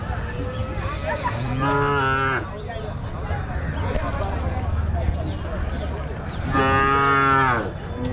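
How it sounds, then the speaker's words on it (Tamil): A young calf moos twice on a farm, two loud drawn-out calls separated by several seconds, with someone speaking in the background. "கண்ணுக்குட்டி இங்கே ஒரு கண்ணுக்குட்டிங்க"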